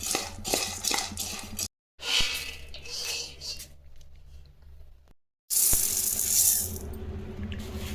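Chickpeas are dry roasted in a pan, giving a scraping, rattling stir of hard grains against metal. The sound comes in close, busy stretches broken by brief silences, with kitchen clatter and no voice over it.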